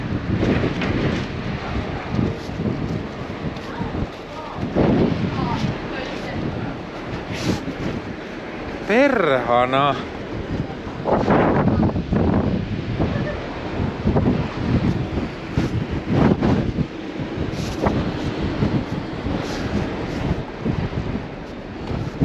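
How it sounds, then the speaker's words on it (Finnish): Strong wind buffets the microphone in gusty roars on the open deck 12 of the Silja Line ship Serenade, with people talking and laughing over it and a brief shout partway through. "Täällä vähän tuulee kyllä. Kyllä. Kauhea tuuli."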